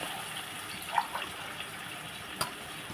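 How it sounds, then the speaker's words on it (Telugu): Soft, steady trickle of water poured from a glass into a cooking pot for tomato upma, faint and close, with a couple of small clinks along the way. "ఇవ్వండి వాటర్ వేస్తున్నాను"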